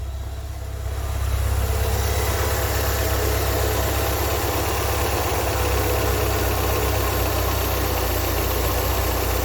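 A car engine idles steadily at about 1,000 RPM after a restart, a loud, close, even low rumble with a slight rise in level early on and no talking.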